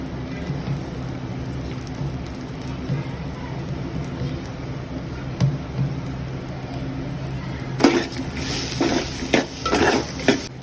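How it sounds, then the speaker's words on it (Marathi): Coriander seeds being dry-roasted in a pan for a Kokani-style chicken curry, with a steady low scraping and stirring throughout and sharper metallic clinks of a spoon against the pan growing busier toward the end. "आपण यात धणे टाकूया आणि परत भाजून घेऊया."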